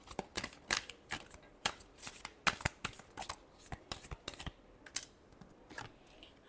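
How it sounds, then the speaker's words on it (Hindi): A deck of tarot cards shuffled close up in quick, crisp riffling bursts that run steadily with short gaps, the loud flutters clearly standing alone. "Last shuffle."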